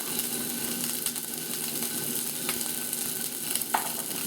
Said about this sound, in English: You want the sound of a sear.